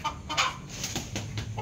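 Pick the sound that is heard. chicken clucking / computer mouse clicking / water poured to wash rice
chicken clucking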